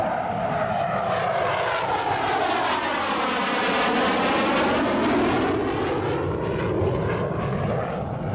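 An FB-111 tactical strike jet flies over an air show, its loud engine roar swelling and fading steadily as it passes close overhead for several seconds, with no voices.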